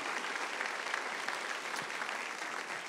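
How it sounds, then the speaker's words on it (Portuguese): A church congregation at a Quadrangular service applauds loudly and steadily, a dense continuous wash of clapping from many hands filling the room without pause. "vamos dar uma linda salva de palmas. Aplauda forte mesmo"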